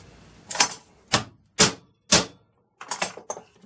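Hard, sharp taps with a tool: four evenly spaced strong knocks, a short pause, then three quicker hits, close and loud with silence between.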